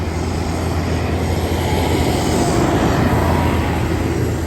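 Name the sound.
John Deere 7530 tractor engine climbing hill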